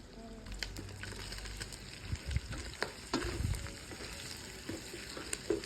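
Pork cubes and sliced jumbo hot dogs sauté in a pan, giving a steady close sizzle with scattered stirring clicks and clatters throughout, no voices.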